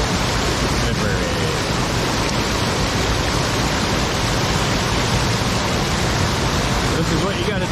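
Steady, loud rush of a waterfall and stream flowing over rocks in Sapphire Valley, western North Carolina, a dense continuous roar filling the whole stretch with no break.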